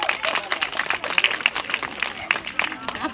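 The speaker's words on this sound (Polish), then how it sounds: "Jeszcze raz wielkie brawa!" An audience at an outdoor theatre show claps in a loose, uneven burst of applause, with sharp individual claps standing out from the crowd at a moderate level.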